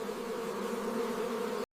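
Carniolan honeybees buzz at their beehive in a steady, dense hum that continues without pause before stopping abruptly.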